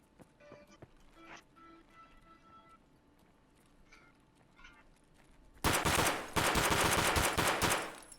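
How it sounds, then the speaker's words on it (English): Gunfire from many people shooting in Escape From Tarkov: scattered faint distant shots and clicks at first, then a sudden loud, sustained burst of rapid automatic fire close by. "A bunch of people shooting? But not at me."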